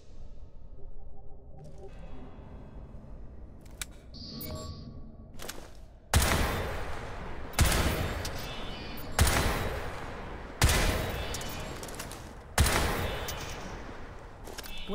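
Loud bursts of rapid gunfire from the Crysis 3 video game, five or six distinct volleys spaced about 1.5 seconds apart, each a sharp broadband blast that decays. Quieter game sounds precede them.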